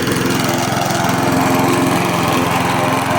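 A push lawn mower's small engine runs steadily and loudly close by, with a constant throaty drone and no pauses or voices.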